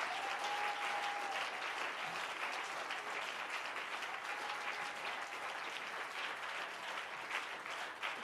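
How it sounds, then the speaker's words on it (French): A church congregation applauds at a worship service, sustained steady clapping from a large crowd filling the room throughout, with no pauses. "Can we clap the Lord once again for him?"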